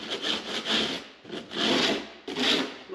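A hand rasp scraping the edges off a piece of wood in a workshop, four close, loud strokes with short pauses between them, no talking.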